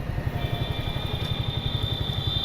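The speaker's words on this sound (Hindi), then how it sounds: "मैं आपको पेट्रोल पे करके दिखा देता हूँ कि पेट्रोल पे कैसी चलती है" A Bajaj Freedom 125 CNG motorcycle running on petrol idles steadily up close, a low rhythmic putter with a faint high whine running over it, no voices.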